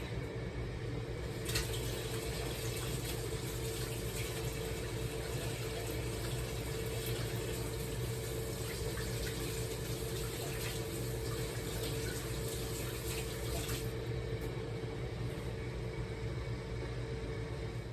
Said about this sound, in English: I'm gonna rinse my hands really quick.